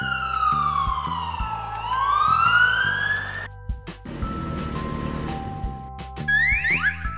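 A black toy police car siren wails in loud rising and falling electronic sweeps, followed by a clattering burst of toy noise and a brief return of high chirping tones.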